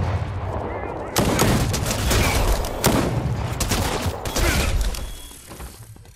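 Rapid gunfire from a gold gun in a video game, a loud burst of repeated shots starting abruptly and continuing in dense volleys with a few heavier booms, fading near the end.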